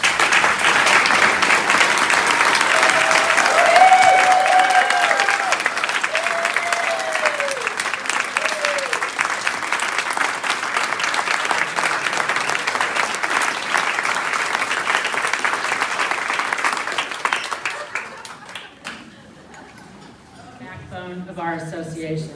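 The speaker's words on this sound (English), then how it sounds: "let's give them a big round of applause" An audience at an association president's remarks gives the staff a big round of applause, loud sustained clapping for about eighteen seconds, then fading as a voice begins speaking.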